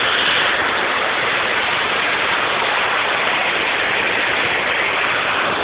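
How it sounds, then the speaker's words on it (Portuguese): Water of the Sorocaba stream in Osasco flowing where it meets the Tietê River, a steady, loud broadband rush without pause. "Esse é o córrego do Sorocaba."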